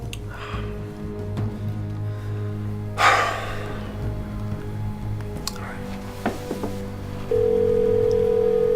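A phone line sounds during an outgoing call, a steady tone starting near the end and continuing loud and close after quiet room noise and a brief rustle, with no speech.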